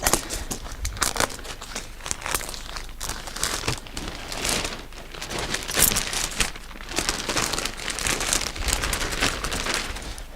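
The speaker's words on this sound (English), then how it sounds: "Now I'll cut the bag open." Plastic compost bag being cut open and pulled apart in a greenhouse, with close, irregular crinkling, rustling and tearing bursts that continue throughout at moderate volume, without talking.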